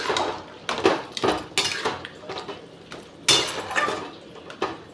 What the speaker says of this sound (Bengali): এবার ভালো করে নাড়িয়ে নিচ্ছে